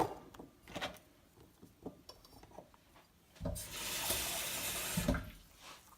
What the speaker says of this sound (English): I've just covered with water.